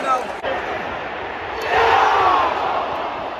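Lively football crowd at a West Ham v Spurs London derby, a broad roaring wash of many voices that swells louder in the middle, with scattered shouts close by.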